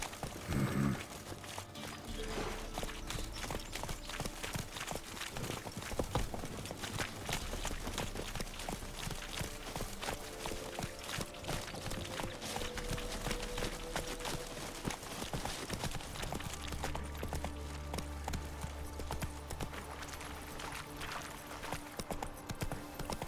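Horse hooves clip-clop steadily as Geralt rides his horse Roach through The Witcher 3, a close, continuous rhythmic trot with a few busier stretches and no talk over it.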